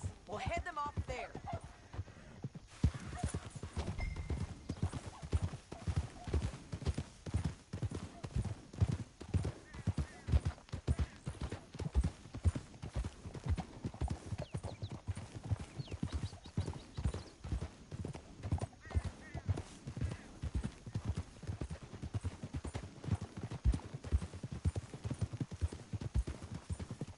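Horse hooves clip-clop at a steady walking rhythm in the Red Dead Redemption II video game, continuous and fairly close, with a neigh near the start and voices talking over the hoofbeats.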